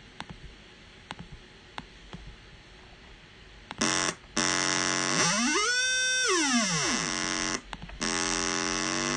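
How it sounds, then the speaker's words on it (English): A loud, sustained feedback tone from a Monark synthesizer with harsh buzzing harmonics that sweep up and back down in pitch, after a few quiet clicks. "No matter what key I hit, I'm getting the same note because it's just straight feedback."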